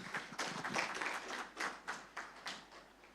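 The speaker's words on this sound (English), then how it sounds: "with a round of applause, let's invite" Applause at a bank association's annual general meeting, a brief round of scattered hand claps from a modest audience, fairly faint and heard from a distance in a quiet hall.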